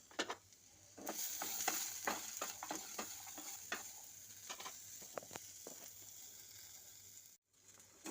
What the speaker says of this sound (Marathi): आता त्याला भाजून घ्यायचं आहे